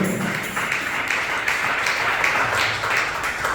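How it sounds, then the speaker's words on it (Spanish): Church congregation applauding during a sermon, a sustained, moderately loud spread of clapping from many people that runs evenly throughout, with no talking on top. "den un fuerte aplauso al Señor"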